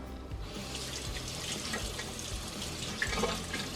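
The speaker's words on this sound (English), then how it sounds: "Just going to use a sieve. Chuck them in there. And give them a good rinse." Running water pours steadily into a sieve as tomato seeds are rinsed, a soft continuous splash and trickle close by with faint clinks.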